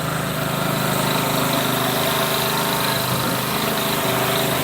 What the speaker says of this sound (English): Get yourself a generator.